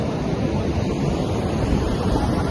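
Sea waves wash onto the beach at Alibag in a steady, close roar of surf, with wind buffeting the microphone throughout.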